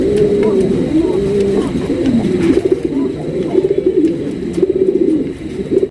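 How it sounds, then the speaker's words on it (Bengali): GNS pigeons at a fancy-pigeon seller's place coo in close, loud, repeated rolling phrases that overlap continuously from start to finish. "একদমই হাই কোয়ালিটির আপনার জিএনএস কবুতর দেন"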